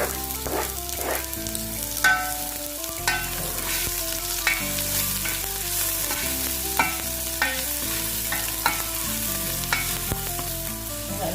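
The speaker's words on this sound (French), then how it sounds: "je mets un peu d'huile dans ma casserole" Onion and garlic frying in oil in a saucepan, with a steady close sizzle and occasional stirring clatter, while a melodic music track plays over it throughout.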